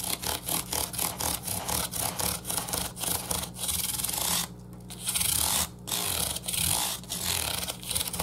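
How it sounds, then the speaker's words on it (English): Folded old sandpaper rubs back and forth along a guitar neck, rounding over cracks in a steady rhythm of rasping strokes, close and fairly loud, with two brief pauses. "old piece of sandpaper. You know, it doesn't have to be anything special."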